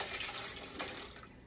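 Hominy and its canning liquid pour into a pot for pozole, a steady splashing, gurgling stream of water close by, running continuously without talk.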